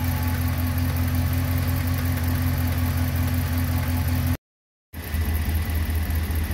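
A Ram Hemi V8 idles close up with a steady low rumble and a faint rhythmic tick running through it, broken by one short silent gap.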